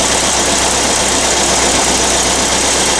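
Old VW engine fitted with a Weber carburetor idling just after a cold start, a steady close mechanical drone with a fast even pulse and faint knocking, loud and unbroken with no voices.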